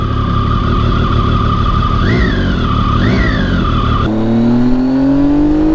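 A Triumph Tiger 800 three-cylinder adventure motorcycle with a Yoshimura exhaust sits nearby, running loud and steady with two quick blips of the throttle, then revs climb smoothly toward the end.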